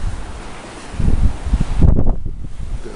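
Gusty wind buffets a microphone on a sandy beach, a low roaring rumble that swells and surges in uneven gusts throughout, close and fairly loud with no other clear sounds.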